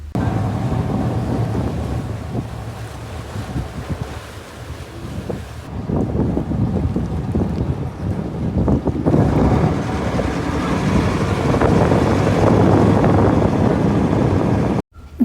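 A boat pitches over rough, hard-hitting waves on a trip to a local island, with strong wind roaring across the microphone and dense rumbling water noise throughout, cutting off abruptly at the end.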